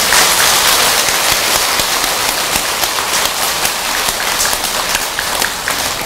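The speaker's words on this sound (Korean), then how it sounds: "우리 경선 스님한테 박수 한번 주세요." Sustained applause from a Buddhist temple congregation honoring the monk Gyeongseon at a dharma ceremony, dense steady clapping filling the room with no talk over it.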